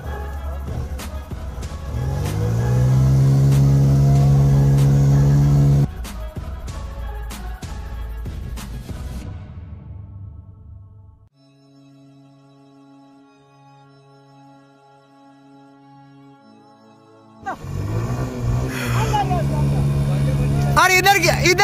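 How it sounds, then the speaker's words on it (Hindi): A motorbike runs in gear while being ridden through water. The engine drones loudly with a strong, steady tone, drops to a quieter idle hum midway, then roars back up near the end. "अब मैं बाइक के गियर डालता हूँ, देखते हैं कि ये चलती है या फिर नहीं।"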